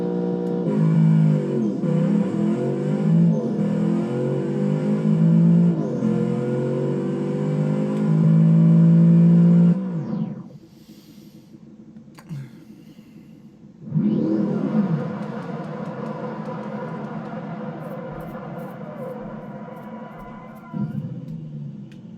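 Custom-built 7-liter V8 tuned for drag racing in a Fungo Van revs hard in a video game, a loud sustained roar with rising and falling harmonics, a brief near-silent drop, then another long rev climbing back up.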